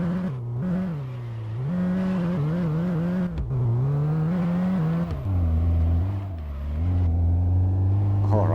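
A small, powerful car revs its engine and accelerates, the note climbing and dropping through several gear changes, loud and close with a steady droning hum between pulls.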